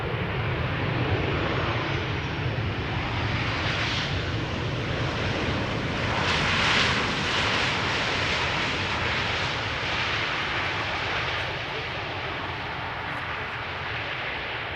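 A Boeing 737 arriving at Amsterdam Schiphol roars overhead, a loud, broad, sustained jet rumble that swells near the middle and eases off slightly toward the end.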